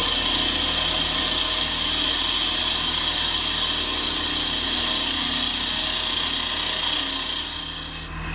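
A continuous, loud rasping scrape of a gouge cutting into butternut wood spinning on a lathe, steady and close throughout, ending abruptly.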